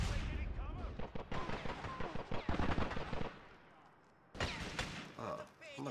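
Bursts of automatic gunfire and single gunshots in the video game Grand Theft Auto: The Ballad of Gay Tony, loud and dense with rapid rattling volleys, briefly dropping off before another barrage.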